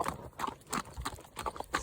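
Horse hooves clip-clopping at a steady walk while the horse is ridden outdoors, a regular close rhythm of footfalls with no talking.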